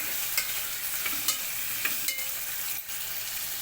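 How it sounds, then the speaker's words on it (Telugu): Steady sizzling of onions frying in a pan, with intermittent scraping clicks of a spoon stirring; no voices. "దీన్ని అయితే కలుపుకుంటూ మనం ఉల్లిగడ్డ అంతా మనకు ఫ్రై అవ్వనివ్వాలి"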